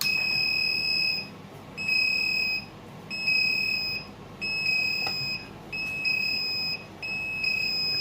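A UV-C device's electronic warning alarm sounds a shrill two-tone beep about seven times in a regular rhythm, with short gaps between and no talking.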